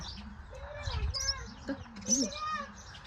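Sparrows chirp and tweet near a fallen chick, with short bird calls scattered through a few seconds close by, under people talking.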